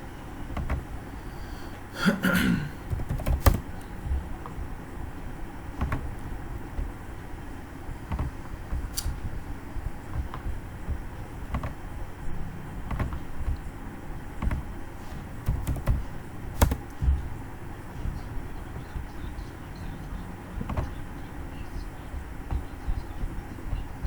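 Typing on a computer keyboard while writing Python code, scattered faint key clicks and taps in irregular bursts over a low background rumble, with no speech.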